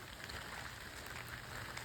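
Morning rain falling outdoors, a soft, even hiss of drops hitting surfaces, faint and continuous with no voices.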